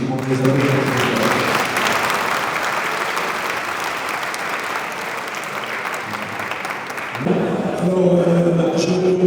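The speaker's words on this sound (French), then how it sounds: "Je demande les applaudissements." A dinner crowd at a French entrepreneurs' event breaks into sustained, loud applause, a thick continuous clatter of hands, with speech resuming over it near the end.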